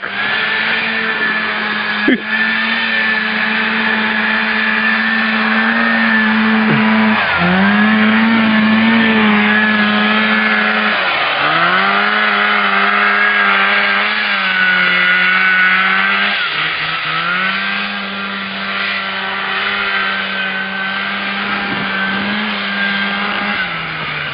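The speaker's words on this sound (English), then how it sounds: "Look at that performance of the Rupp machine go" Engine of a vintage Rupp snowmobile revs hard and continuously, its pitch rising and dipping through several throttle swells, loud and close, with no voices over it.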